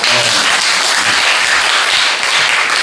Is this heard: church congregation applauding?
yes